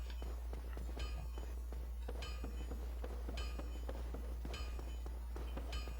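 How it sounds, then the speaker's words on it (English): Andre of Astora striking a hammer on an anvil in the video game Dark Souls, faint metallic clangs ringing out at spaced intervals over a low ambient hum, heard from a distance. "That is the sound of Andre of Astora smacking his hammer on an anvil."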